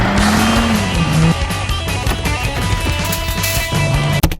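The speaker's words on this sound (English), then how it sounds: "It's a Hyundai Excel!" A cheap, worn-out Hyundai Excel hatchback drives along with a loud, steady engine drone and road roar that carries on throughout, ending in a sharp click.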